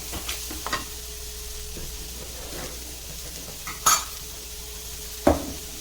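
Ingredients for an orange pulao softening over low heat after a pinch of salt goes in: a quiet, even sizzle with occasional spoon scrapes and a couple of louder clinks against the pan.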